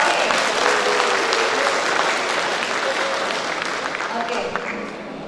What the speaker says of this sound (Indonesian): kita beri tepuk tangan yang paling meriah untuk Bapak ini